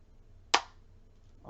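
A plastic part of a Square Stand card reader clicks into place for an iPad cash register setup, one sharp close snap in an otherwise quiet moment.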